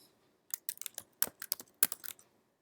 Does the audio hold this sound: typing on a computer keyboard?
yes